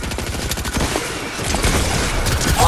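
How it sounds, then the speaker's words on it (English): Rocket launcher blasts in a Fortnite 1v1 match, a dense, loud barrage of explosive booms and crackling gunfire running continuously with no break. "Two rocket launchers at once."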